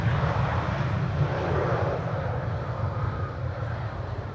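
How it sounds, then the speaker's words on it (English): Jet airliner landing at Amsterdam Schiphol Airport on a windy day, a steady broad engine roar that holds at a moderate distance, with wind noise over the microphone. "The third airplane to land here"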